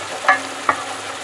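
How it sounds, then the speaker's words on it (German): Vegetable juice hitting a pan of braised beef brisket as it is deglazed, two short sharp sizzling hisses about half a second apart over a quiet background. "ich lösche das jetzt mit dem Gemüsesaft ab"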